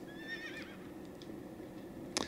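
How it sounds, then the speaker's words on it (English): Horse neighing in World of Warcraft: a single whinny with a wavering, descending pitch, then a brief sharp sound near the end, over a steady game background. "Hop on the horse."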